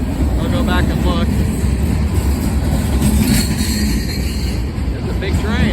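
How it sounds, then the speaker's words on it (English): A long freight train rolls past close by in Glendale, Ohio, a loud steady rumble of wheels and rail noise with faint squeals, while onlookers talk over it throughout. "It's a big train"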